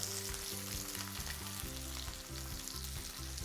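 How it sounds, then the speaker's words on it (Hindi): Onions frying in hot olive oil with a little cumin in a pan, a steady close sizzle with crackling and faint stirring scrapes, continuous and loud throughout with no voices. "गर्मा गर्म पैन में हम डालेंगे ऑलिव ऑयल। इसमें जाएगा थोड़ा सा जीरा"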